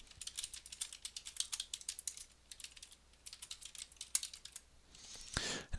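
Rapid clicking keystrokes on a computer keyboard, typed in quick irregular bursts up close, with a brief pause partway through and a louder rustle near the end, no voices.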